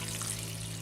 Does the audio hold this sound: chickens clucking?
no